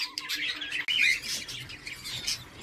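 Budgerigar chicks in a breeding box, with a continuous raspy squawking and chirping from several young birds close by, loud and steady with one brief break, no talk.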